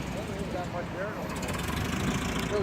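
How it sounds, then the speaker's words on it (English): A 1913 Buick brass-era car's exhaust burbles low and steady at a touring meet, a faint rumbling engine note running continuously with people talking over it. "Listen to that exhaust note."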